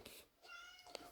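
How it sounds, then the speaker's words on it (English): A cat meows a few times at close range, faint and slightly muffled, with quiet gaps between the calls. "What are you meowing at?"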